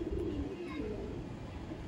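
A female Mulbai blue-eyed pigeon coos softly in a low, steady drone for about two seconds, heard close up with faint background noise.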